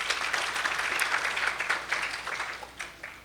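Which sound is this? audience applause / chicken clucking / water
audience applause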